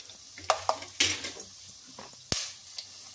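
Peanuts and cashews fry in oil in a pan for cashew pudina rice, giving sharp, close crackles and pops over a low sizzle, with a spoon stirring in between.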